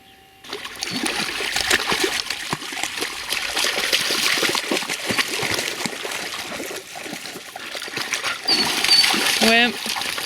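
Dogs swim and splash in water outdoors, a steady close churn of sloshing and spattering that runs nearly the whole time, with a faint voice near the end.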